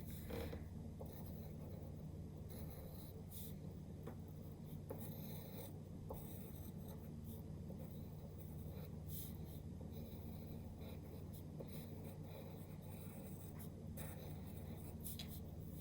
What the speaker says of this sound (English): Just draw sort of random wiggly lines going up and down.